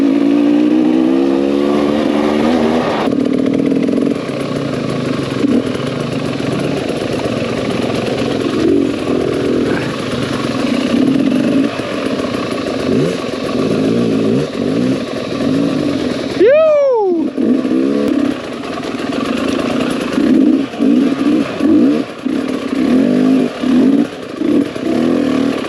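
A motorcycle fitted with a newly installed exhaust pipe rides along, its engine droning and revving up and down close by, with wind noise and a brief sharp whine partway through.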